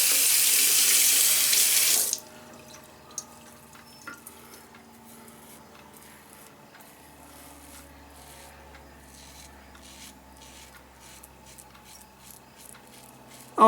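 Water gushes loudly from a tap for about two seconds, then stops abruptly, leaving quiet scraping and small clicks.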